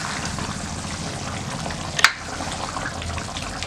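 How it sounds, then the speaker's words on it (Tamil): A steady bubbling, sizzling simmer from a pot of tamarind curry, with one brief louder splash or pop partway through. "இப்போ வந்து இந்த புளி ஊற்றுனதுக்கப்புறம் நல்லா கொதிச்சிருச்சு."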